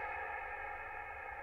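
Voice treated with a very long reverb effect in sound post-production, imitating the space of a grand church; a sustained, washed-out tonal smear of reflections holds steady for the whole moment with no clear words.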